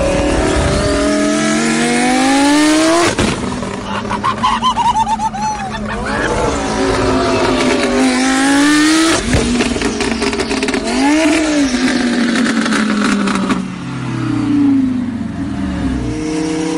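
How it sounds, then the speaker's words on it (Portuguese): A modified twin-turbo Lamborghini revs hard and drifts before a crowd, its loud engine climbing and dropping through several sharp rising pitch sweeps, with bursts of tire noise and brief lulls between pulls. "Agora pensa numa Lamborghini toda modificada, twin turbo. Dá nisso."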